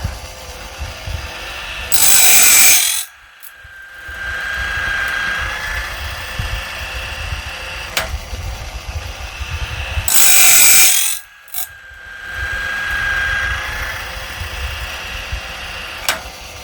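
A saw blade sharpening grinder working tooth by tooth, with two loud bursts of grinding each followed by a mechanical ratcheting index and steady motor hum, in a recurring cycle.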